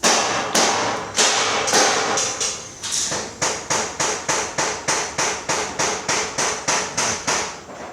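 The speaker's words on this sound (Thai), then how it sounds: "นี่ช่างเขากำลังตอกอยู่" A construction worker hammers at a building site, striking steady, loud, sharp blows: a few spaced hits at first, then a fast regular run of about twenty evenly timed strikes close by.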